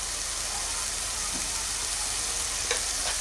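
Spice paste frying in a pan for a brinjal curry, a steady close sizzle and crackle throughout with a faint stir or two and no talk.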